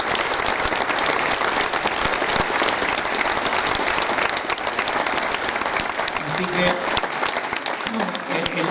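A large crowd at a political event in Capilla del Monte applauds in a dense, loud, continuous roar of clapping, and a voice speaks briefly over it near the end.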